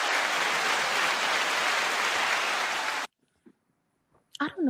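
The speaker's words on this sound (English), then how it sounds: "Now, second applause." Studio applause fills the first three seconds as a dense, loud roar of clapping that cuts off abruptly, followed by near-silence and the start of a voice.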